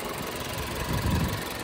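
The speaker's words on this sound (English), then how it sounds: "idling away smoothly, runs and drives awesome." A 2019 Land Rover Discovery Sport HSE with a turbocharged four-cylinder engine idles steadily, a low even rumble heard close with no talk.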